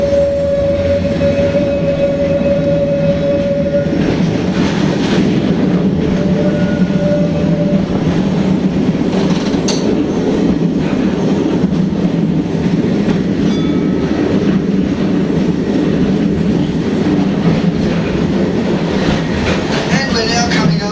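An Auckland tram runs along the Wynyard Loop, a steady rumbling roll with wheel noise and a brief high tone early on, continuous and fairly loud throughout with no talk.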